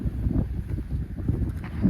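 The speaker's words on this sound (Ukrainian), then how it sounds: "Вітер, звісно, капець." Steady, blustery wind buffets the microphone, a low rumbling roar that swells and dips throughout without pause.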